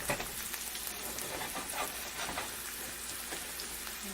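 Onions frying in a pan over medium-low heat give a steady, dense sizzle and crackle, close and continuous with no voices.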